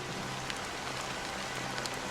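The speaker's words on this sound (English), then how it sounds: "Why did this rain choose me?" Rain from the video game Honkai Star Rail falls steadily on surfaces, a soft continuous hiss with scattered drop taps, quiet and even throughout.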